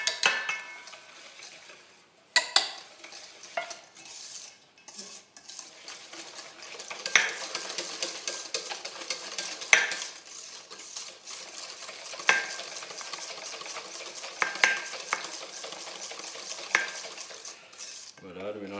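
A sugar and cornstarch mixture stirred in a pot for a mango meringue tart filling, with steady scraping and clinking of a utensil against the pot, close and moderate, a few sharper knocks throughout.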